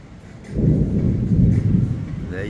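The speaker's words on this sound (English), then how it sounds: "You should hear some thunder." Thunder rumbles during a hazy thunderstorm: a deep, rolling low boom swells up and lingers for about two seconds before easing off.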